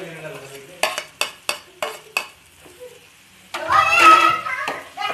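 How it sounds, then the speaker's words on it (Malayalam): Ginger, garlic and coriander hitting a frying pan, first a run of sharp spaced clinks and taps, then a sudden loud burst of bright sizzling that continues to the end. "ഇപ്പോൾ ജിഞ്ചർ ഗാർലിക്കും കൊറിയാണ്ടറും ഞാൻ ആഡ് ചെയ്യുമ്പോൾ"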